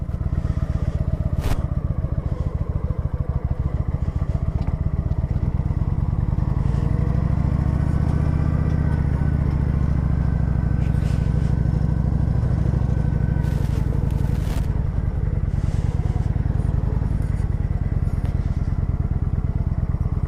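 Motorcycle engine running steadily during a ride, loud and close, with a droning low rumble that swells for a stretch midway and some wind noise over it.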